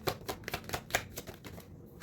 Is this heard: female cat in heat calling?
no